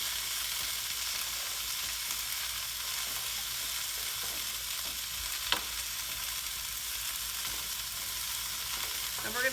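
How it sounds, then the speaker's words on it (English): Shiitake mushrooms and bok choy stems with ginger and grated garlic sautéing in a pan, a constant soft hiss of frying with an occasional faint stir, fairly quiet and without voices. "we're going to saute this for another 2 or 3 minutes"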